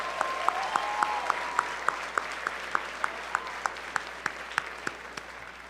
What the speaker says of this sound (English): Can we get one more round of applause for our student speeches?